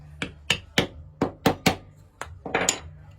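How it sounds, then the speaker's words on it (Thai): A hammer taps a file or chisel down into its wooden handle, seven or eight sharp, close knocks in an uneven rhythm with no talking. "แล้วก็ใช้ค้อนตอก"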